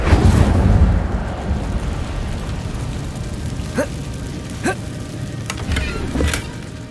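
An Incendio fire spell cast in the Hogwarts Legacy video game bursts out as a loud, deep roaring whoosh in the first second, then fades into a low rumble with a few brief crackling flickers.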